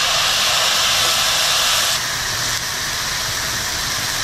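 Tomatoes hit a hot pan of golden fried onions for a dhaba-style soybean curry, setting off a loud, steady broadband sizzle that holds for several seconds and eases slightly partway through, with no talking.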